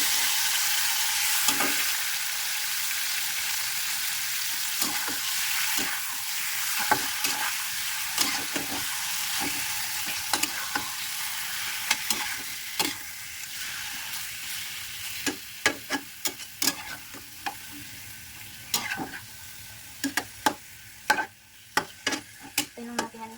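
Pork pieces fry in a hot pan with a steady broadband sizzle throughout, broken by sharp clacks and scrapes of a utensil stirring the meat, the stirring knocks growing denser toward the end; no voices.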